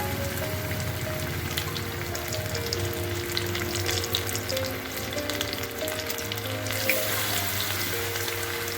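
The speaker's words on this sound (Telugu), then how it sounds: "మనం జాయింట్స్ వేసుకొని ఫ్రై చేసుకోవాలి." Chicken drumstick joints deep-frying in hot oil, a dense, steady bubbling crackle that stays loud and close throughout with a few sharper pops, no talking.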